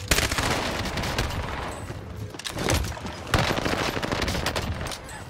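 PPSh submachine gun in Call of Duty: Vanguard, firing in rapid sustained bursts with heavy layered gunfire and explosive booms, loud and dense throughout with brief lulls between volleys.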